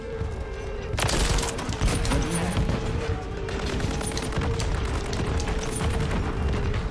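Rapid automatic rifle fire in Call of Duty MW3, a dense stream of quick shots that erupts abruptly and rattles on steadily, fairly loud against game background noise.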